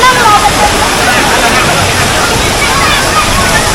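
Water rushing and splashing at a Dream World water park attraction in Thailand, a loud, steady roar like a waterfall or cascading spray, with faint crowd babble beneath.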